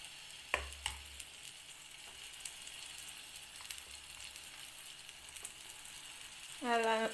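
Besan chilla batter sizzles softly on an oiled pan as it is spread out, a faint steady frying hiss with a few light taps and scrapes, while a voice talks over it.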